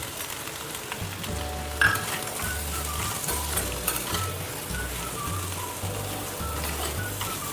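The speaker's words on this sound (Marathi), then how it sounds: "थोडेच परतून घ्यायचे तेलात" Potatoes sauté in oil with crushed peanuts, giving a close, continuous sizzle with scraping and stirring from a spoon against the pan.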